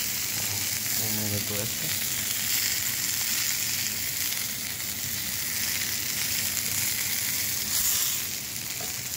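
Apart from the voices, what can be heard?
short ribs searing in a pan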